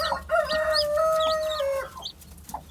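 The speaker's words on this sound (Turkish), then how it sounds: "civcivlerin annesi şu anda yanındaki civcivlere bir şey yedirmeye çalışıyor" An Aseel Shamo hen gives a drawn-out, wavering call, mixed with soft clucks and faint high peeping from her chicks nearby as she feeds them.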